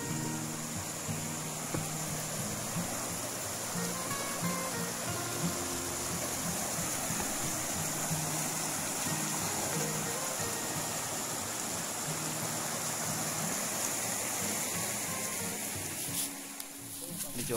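Water from a river stream rushes steadily at the Curup Jepun waterfall in Way Kanan. The flow is a loud, constant wash that runs throughout without a break.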